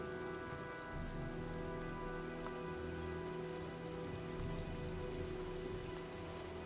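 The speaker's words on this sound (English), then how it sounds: "Well, looks like a storm's coming." Steady heavy rain in the Heavy Rain video game, a dense continuous hiss of downpour on surfaces with low rumbling underneath, filling the whole stretch with no speech.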